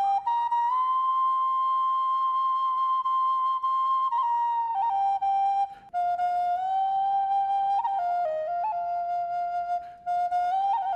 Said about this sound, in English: allow the sounds of the flute to open your heart